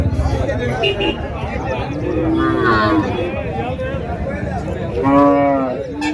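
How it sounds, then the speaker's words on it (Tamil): Two bulls low repeatedly at a bustling cattle market, long droning moos rising mid-clip and again near the end over a crowd murmur while someone talks nearby. "ஸோ ரெண்டுமே காளைங்க அருமையாக இருக்குது பாருங்கள்."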